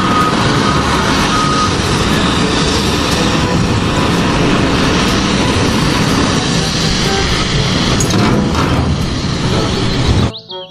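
A toy forklift sounds its reversing beeps, a loud, close, repeating electronic tone over constant noise, cutting off abruptly near the end.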